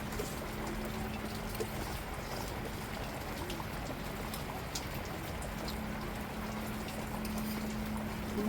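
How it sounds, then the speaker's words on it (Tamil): Heavy rain falling steadily in a rural village, a constant even hiss with scattered droplet patter, close and unbroken, with no talking. "மழையாக இருக்குது எங்கள் ஊரில் குளிரில் ஆடிக்கிட்டு இருக்கோம் மழையில்"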